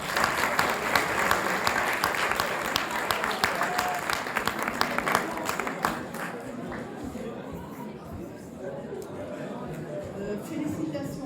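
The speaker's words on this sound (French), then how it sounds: "On peut l'applaudir s'il vous plaît." Audience applause at an eloquence contest prize ceremony, loud clapping from a room full of people that fades after about six seconds into crowd chatter, footsteps and shuffling.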